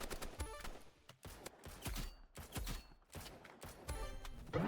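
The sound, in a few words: revolver gunshots in a video game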